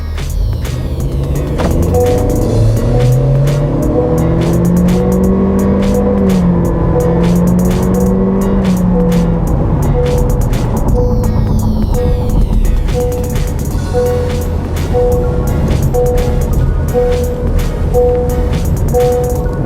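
A 2022 Honda Civic sedan with a 1.5-litre turbo engine pulls away in sports mode, its engine droning steadily and rising in pitch. It runs loud and continuous for about twenty seconds, with no voices over it.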